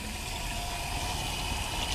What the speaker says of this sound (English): You filling up the water jugs,